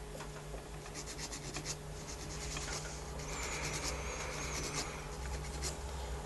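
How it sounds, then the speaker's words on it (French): Artificial nail tip being filed along the demarcation line with the edge of a nail file, giving a steady, close, soft scratchy rasp of repeated strokes. "avec le tranchant de la lime, je vais limer ma démarcation sans toucher l'angle naturel."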